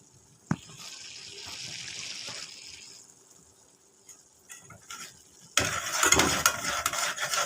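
Flour being stirred into melted ghee in a pot, a low soft sizzle and scraping stir after an initial clunk, followed by a louder burst of brisk scraping and frying near the end.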